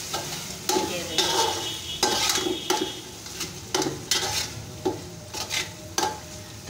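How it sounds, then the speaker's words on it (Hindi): Ground spices and red chilli powder fry with chickpeas for chana pulao, stirred hard and rhythmically with around ten loud, close scraping strokes of a spoon against the pot over a constant sizzle. "अब इन मसालों को अच्छी तरह से हम भून लेंगे।"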